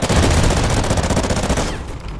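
Rapid automatic gunfire in a video game, a dense loud burst of rattling shots that runs nearly two seconds before cutting off abruptly, with no speech over it.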